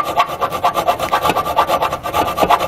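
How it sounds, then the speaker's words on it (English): A hand file rasps at a hole in the metal of a 2013 Ford Escape's frame during a Class III trailer hitch installation, enlarging it with quick, even back-and-forth strokes that sound close and fairly loud, with no talking. "So we're just going to use our file."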